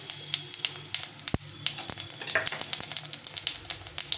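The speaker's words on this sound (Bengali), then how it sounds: "এখানে আমি একটু জিরে আর শুকনো লঙ্কা নিলাম, এটা ফোড়নে দিয়ে দিলাম।" Cumin seeds and dried red chillies frying in hot mustard oil make a close, busy crackle of quick pops and spits over a soft sizzle, with one sharper knock partway through.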